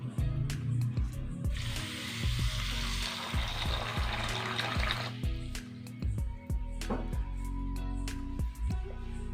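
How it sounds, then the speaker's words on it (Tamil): Finger millet (ragi) being washed by hand in water, with close splashing, sloshing and swishing and scattered grainy clicks that go on continuously without talk. "இப்போ வந்து நான் ராகியை வாஷ் பண்ண போகிறேன்"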